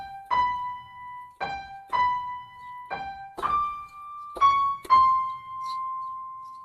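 Single notes of the theme from Harry Potter played slowly on an electronic keyboard, seven separate bright tones each struck and left to sustain, clear and close in a quiet room.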